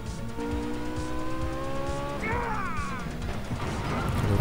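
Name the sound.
car crashing and skidding in video game Gangster Vegas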